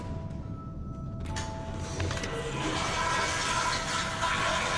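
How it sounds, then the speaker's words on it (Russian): A toilet flushes in the horror video game Dead Space 2, a rushing burst of water that starts abruptly after a quiet moment and swells into a loud, steady wash for several seconds. "Ох уж эти унитазы."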